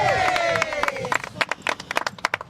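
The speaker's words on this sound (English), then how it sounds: "give them another big cheer" Wedding guests at Loch Lomond burst into clapping and cheering for the newly married couple, a lively spread of claps and whoops rising after a brief spoken line at the start.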